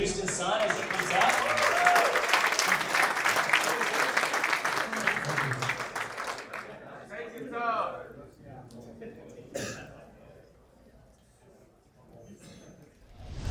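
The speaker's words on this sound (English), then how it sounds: "can we please give a big round of applause for Gusten's son as he comes up?" Summit audience applauding a speaker walking onto stage: steady crowd clapping for about six seconds, fading out into scattered claps, rustling and a few voices.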